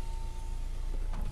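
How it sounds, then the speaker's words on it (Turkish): The electric window of a Renault Megane 4 lowers in a steady, quiet motor whine with a constant hum, heard close inside the car cabin without any talking. "Camımızı açalım, hava çok sıcak."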